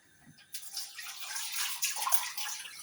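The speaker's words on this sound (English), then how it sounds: "wash my hands" Tap water runs steadily for hand washing in a home kitchen, a broadband rush that starts abruptly after a brief quiet moment and continues with splashes and gurgles, close and fairly loud with no talking.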